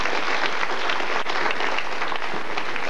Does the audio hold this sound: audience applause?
yes